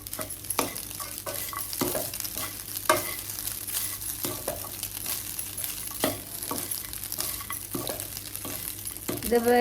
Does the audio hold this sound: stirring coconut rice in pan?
yes